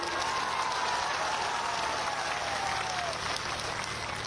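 A political rally crowd claps in a sustained, even burst of applause heard from a distance, with no talk over it.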